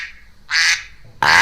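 Cartoon duck quacking as a fox grabs it, two loud nasal quacks separated by a short pause, the second sharp and close, with no other sound.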